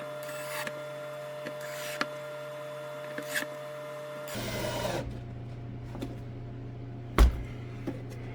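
A power drill runs slowly with a low, steady motor whine, broken by a few scraping bursts and sharp clicks.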